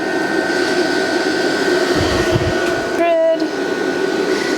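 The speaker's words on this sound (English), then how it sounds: "this is the heater on high" An electric fan heater set to high, running off an Arkpax Titan 1200W portable power station, gives a steady, loud airy whoosh that drones on unbroken, with one brief low thump partway through.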